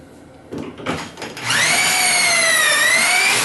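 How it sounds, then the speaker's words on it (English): A power drill spins up after a few clunks and runs steadily at high speed, whining loudly and close by, drilling pocket holes in wooden kitchen cabinet pieces. "So I'll need to drill holes on all 4 sides of the top and bottom pieces."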